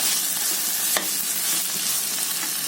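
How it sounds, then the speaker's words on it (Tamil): Potatoes fry over low heat in a pan, a dense, close crackling sizzle broken by the scrape and clack of a spoon stirring them, with one sharper knock early on. "அடுப்பை ஸ்லோலேயே வச்சு ஃப்ரை பண்ணுங்கள்"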